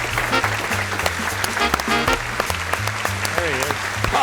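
An audience applauds a guest, Mr. Steven Ciceron, with steady, dense clapping that runs for several seconds, while voices and tonal music sounds rise above it.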